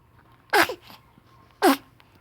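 Two small, sharp baby sneezes about a second apart, close and clear, with a faint breathy sound between them.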